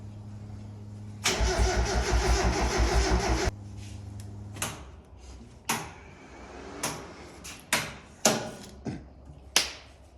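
A Mazda Miata engine fitted to a go kart and running on E85 cranks loudly for about two seconds, then falls quiet apart from a series of sharp, spaced clanks and knocks nearby.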